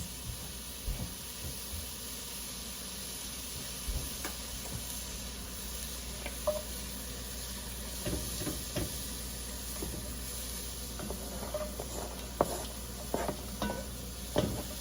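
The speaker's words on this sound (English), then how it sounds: "we're sauteing that onion with our hamburger, right? And when we saute, we want to hear that sizzle." Steady sizzling of chopped onion and ground beef frying in a pan, with a constant hiss and occasional clinks and scrapes of stirring throughout.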